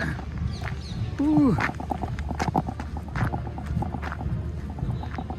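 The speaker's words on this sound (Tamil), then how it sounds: "குதிரைப்பட வருது." Horse hooves clip-clop in an irregular rhythm at a moderate distance during the Changing of the Guard at Buckingham Palace, London, mixed with crowd chatter and a brief squawking call.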